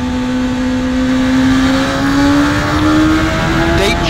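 A 2021 Kawasaki ZX-10R superbike engine revs high on a wet track, whining steadily upward in pitch, loud and close, with wind noise around it.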